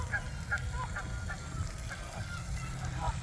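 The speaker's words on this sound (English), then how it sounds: "Now it's a goose pond" Geese honk repeatedly at a former swimming pond now filled with green algae, along a park lake trail; the calls come in short bursts over steady low outdoor rumble at moderate distance.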